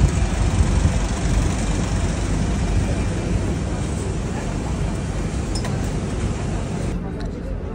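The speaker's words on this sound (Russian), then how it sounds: "Садимся в автобус и едем до самолета." Engine rumble and road noise from an airport apron bus carrying passengers out to a plane for a flight to Phuket, a steady low drone lasting throughout, fairly loud and close, with a faint voice near the end.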